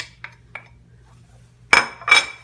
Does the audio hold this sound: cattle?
no